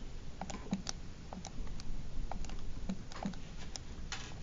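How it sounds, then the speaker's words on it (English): Fingers tap numbers into a handheld calculator while working a math problem, producing light, scattered plastic clicks that are quiet and irregular over a soft background hiss. "I'm literally going to type that in my calculator."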